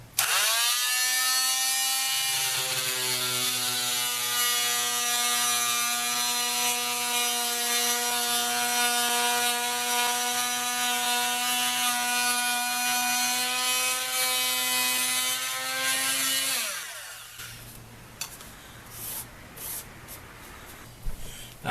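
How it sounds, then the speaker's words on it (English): An oscillating multi-tool cuts a gap into a window frame around Andersen Type A1 thermopane glass, a loud, sustained buzzing whine with steady harmonic tones that runs about sixteen seconds, then drops away to quieter rustling and handling noises. "I'm going to take the multi-tool and cut a gap down in here"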